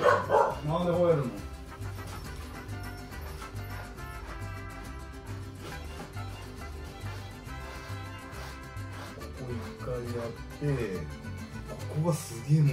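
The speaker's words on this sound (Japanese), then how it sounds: "なんで吠えるの。" A dog barks in sharp bursts near the start and again toward the end during brushing in a bathtub, amid steady background music and some talking.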